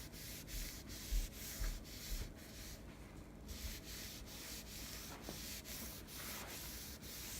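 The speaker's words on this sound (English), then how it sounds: "we want to rub it with this cloth so that the grain will show through" A cloth rubs back and forth over fire-charred, stained wood to bring the grain through, a steady, close scuffing texture with slight rhythmic surges and no talking.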